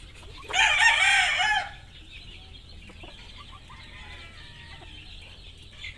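Rooster on a gamecock farm lets out one loud, close crow lasting about a second, followed by softer scattered clucking from hens and chicks in the background.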